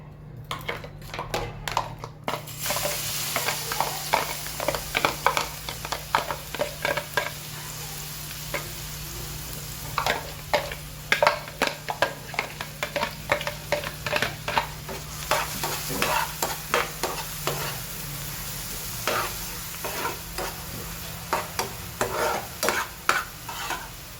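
Chopped onions fry in oil for pav bhaji, a continuous sizzle punctuated by frequent sharp spoon-against-pan stirring scrapes and clatters, loud and close, with uneven bursts throughout.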